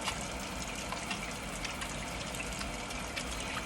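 A steady, close stream of tap water runs continuously while hands are washed, a fairly even hiss with slight splashing throughout.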